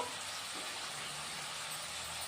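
Sliced onions fry in a pan for a dried shrimp fry, giving a steady, dense hiss of sizzling that stays even and close throughout, with no voices.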